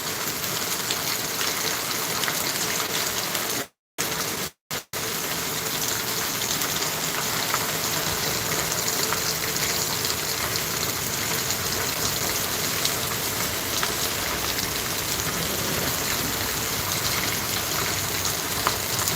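A downpour of heavy, windless rain roars as a continuous, even wash of noise close by, broken only by two brief dropouts to silence near the start, then running unchanged to the end with nobody speaking.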